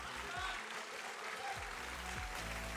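Crowd applause and cheering at a StarCraft esports tournament in Stara Zagora fill the room steadily, a broad wash of clapping with a voice talking over it.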